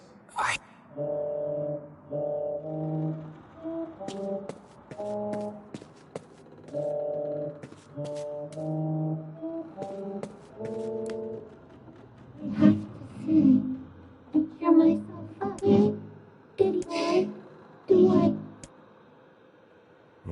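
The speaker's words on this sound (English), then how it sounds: "whatever that sound was, it's... This is a voice pipe." Low, hollow moaning tones echo through a voice pipe in NieR Replicant in repeated drawn-out bursts, then turn into harsher, rumbling growls near the end.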